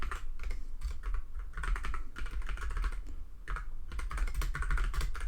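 Continuous rapid key clatter from a computer keyboard as code is typed, steady and fairly close, filling the whole stretch with no talk.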